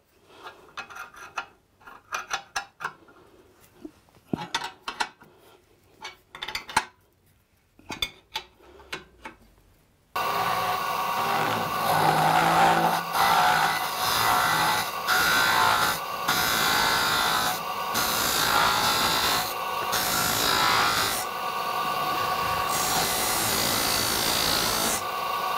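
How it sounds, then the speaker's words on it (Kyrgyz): Carving out the inside of a wooden yurt part: a few sparse knocks and taps, then a loud, continuous rasping and grinding against the wood that runs without a break to the end. "Ичине оюп баштайбыз."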